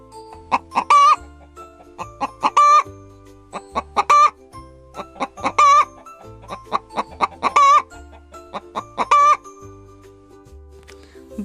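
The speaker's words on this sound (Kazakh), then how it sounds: "Тауық шақырады." A hen clucks in a series of short, repeated bursts, close and clear, over a light musical backing in an educational animal-sounds piece for children.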